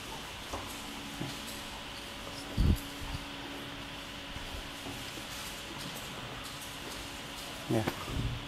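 A DINDAN 600 W air conditioning panel unit runs after preventive maintenance, giving a steady broadband hum and whir close by, broken by a few brief knocks and thumps.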